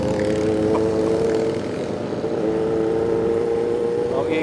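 A loud motorcycle engine drones steadily throughout on a mountain road at Km 90, Infanta, Quezon, with faint voices underneath.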